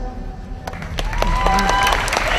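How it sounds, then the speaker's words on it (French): An audience applauds loudly after a performance of a song from Beauty and the Beast, the clapping swelling and holding steady with occasional voices and whoops mixed in. "Et on l'applaudit très fort"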